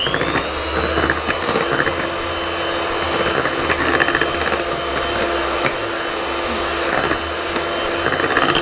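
Electric mixer beating flour into coconut loaf batter, a loud continuous motor whine with a grinding, rattling edge that runs steadily throughout with no talk.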